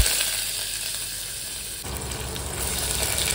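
Raw onion dropped into hot oil with cumin seeds and bay leaf in a pressure cooker, a loud, close, steady sizzle and crackle that swells as the onion hits the oil and keeps frying.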